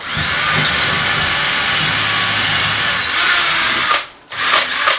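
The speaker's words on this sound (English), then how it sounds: "If your bit ever slows down when you're drilling into walls and studs" A power drill whines steadily as it bores into a wooden wall stud, a high squeal rising near the end, then cuts off briefly before spinning up again.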